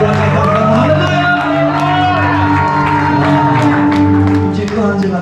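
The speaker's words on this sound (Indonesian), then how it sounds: "Coba beri tepuk tangan ya. Ikuti dengan sorak-sorak katakan haleluya." Church congregation in Indonesia cheering, whooping and calling out hallelujah over sustained music, a loud continuous crowd roar with shouted voices throughout.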